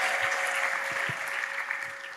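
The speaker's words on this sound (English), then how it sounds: "Big hand clap to the Lord." A church congregation claps their hands together in praise, a steady mass of applause filling the room at moderate volume, with a sustained tone running underneath.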